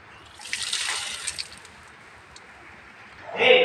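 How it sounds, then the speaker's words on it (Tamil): Water mixed with banana peel is poured onto potted jasmine plants in a rooftop garden in a short splashing stream, then quiet, followed by a second brief, louder pour. "எல்லா செடிக்கும் ஊற்றிட்டோம்."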